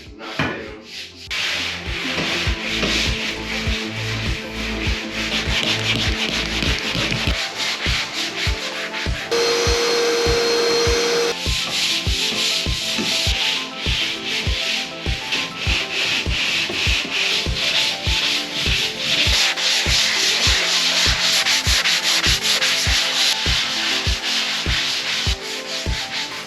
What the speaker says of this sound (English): So this is what I actually ended up using to get the big ridges knocked down.